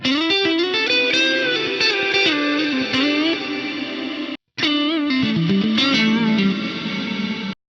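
A distorted electric guitar runs through a reverse gated reverb on an Axe-Fx III, sustained chords swelling into an abrupt cutoff, a short silent gap, then another swell cut off sharply at the end, with no voices.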